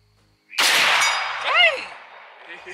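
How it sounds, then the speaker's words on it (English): A single sharp, loud .308 rifle shot cracks out at a long-range shooting competition and decays into an echoing tail, followed by a brief voice-like whistle and quiet background. "now I'm gonna let Cud shoot the 308"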